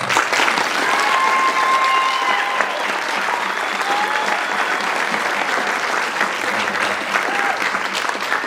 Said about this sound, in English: So if we could just please give them one last round of applause.